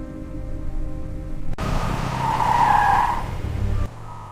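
A car skids to a stop on an old, dark, foggy mountain road, a loud tire squeal rising over engine rumble for about two seconds before cutting off abruptly, heard alone without voices.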